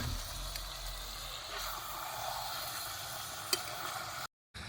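Chicken frying in a pan at an outdoor night picnic as salt, turmeric, chili, cumin and coriander powders are stirred in, a soft steady sizzle with faint scraping and one brief click, quiet and without talk.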